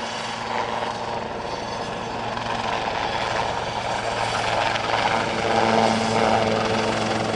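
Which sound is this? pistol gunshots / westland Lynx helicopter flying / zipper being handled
westland Lynx helicopter flying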